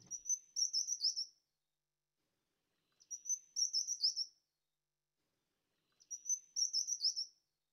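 Taiwan cupwing singing: three separate high, thin squeaky phrases like a little squeaking wheel, evenly spaced about three seconds apart, clear and alone against silence.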